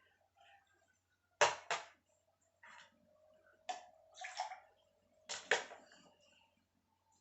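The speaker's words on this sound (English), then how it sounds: "here a mouthwash, and we're going to add a water." Water poured into mouthwash during patient oral care, a few short splashing and trickling bursts with pauses between them, close and fairly quiet.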